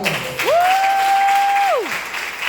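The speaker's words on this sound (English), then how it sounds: "Give them a round of applause." Applause from an audience at a women's summit event continues beneath a loud, sustained whistle or whoop that rises, holds for about a second and a half, then falls away.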